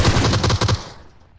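Rapid burst of about seven gunshots from DBS shotguns in the video game Free Fire, loud and close, then fading into a short tail.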